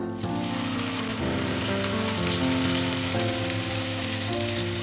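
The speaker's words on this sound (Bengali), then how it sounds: "বিটটা ঢেলে দিলাম।" Grated beetroot sizzles steadily in clarified butter for beetroot halwa, a dense, close, continuous hiss lasting the whole stretch at an even loudness, with a low tonal hum running underneath.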